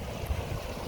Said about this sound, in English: there's so much water coming down here